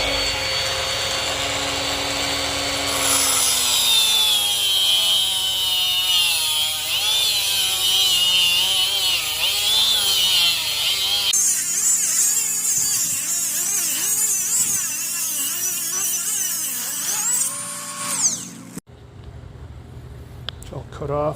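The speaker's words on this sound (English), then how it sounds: "so I'm going to use this Milwaukee die grinder." Milwaukee die grinder cutting off the coils of a small electric motor during repair, a loud high whine that shifts pitch as it bites and eases, running for about eighteen seconds before stopping.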